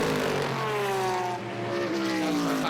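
Vintage race cars lapping the Mid-Ohio road circuit on a drying track, a loud sustained engine drone with the pitch sliding down and then rising again as a car passes, no voices.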